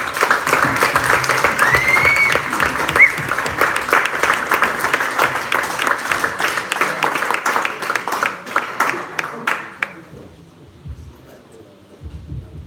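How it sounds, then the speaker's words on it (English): Sustained audience applause, steady and fairly loud, gradually thinning out and fading toward the end. "Big round of applause for our speakers."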